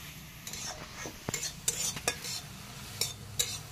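A utensil scrapes and taps against a hot wok as drumstick flowers are stirred and dried out, producing quiet, irregular clinks and scrapes over a faint background hiss.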